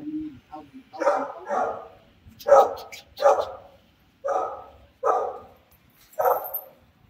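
A German Shepherd barks loudly and close, seven or so deep woofs spaced about a second apart, with brief quiet gaps between them.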